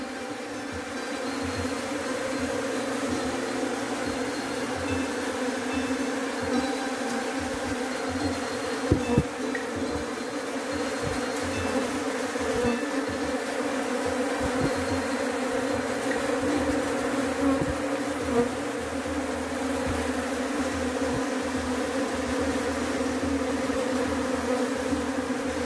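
Guard bees of a honeybee colony buzz in a steady, dense drone at the hive entrance, continuous and fairly close throughout with a few brief knocks partway.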